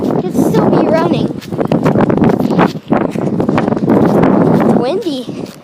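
Strong wind buffets the microphone outdoors near residential central air conditioner units, a loud continuous rumbling roar with gusty surges, while people talk over it throughout.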